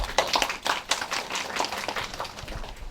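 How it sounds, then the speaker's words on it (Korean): A school audience claps for a vice principal at a high school information session for incoming freshmen. The clapping is sparse and uneven, with distinct individual claps from a small crowd rather than a dense roar. "뜨거운 박수 부탁드리겠습니다"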